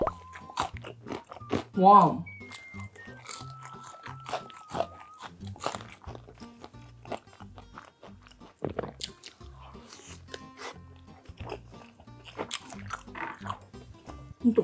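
Crunchy Korean sweet and sour pork (tangsuyuk) with sauce is bitten and chewed close up, with a loud crisp crunch near the start and then wet chewing, mixed with a brief exclamation and soft talk.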